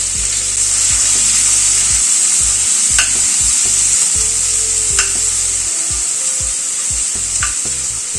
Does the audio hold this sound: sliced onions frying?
yes